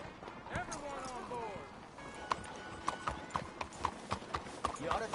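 Horse hooves clip-clopping in the video game Red Dead Redemption 2, a steady run of sharp hoof strikes that grows more distinct toward the end, with a horse whinny and a voice near the start.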